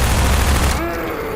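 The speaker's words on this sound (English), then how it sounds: "and the ever wonderful full auto SMG sound." Full-auto SMG fire in Half-Life 2's Ravenholm level, a loud rapid burst of close shots running continuously for just over a second, with no voices.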